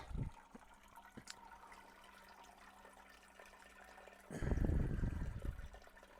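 Wort for a one-gallon oatmeal stout drains from a brew-in-a-bag mesh into a colander: a soft, steady trickle with a few drips, then a louder, closer gush of splashing liquid partway through, with no voices.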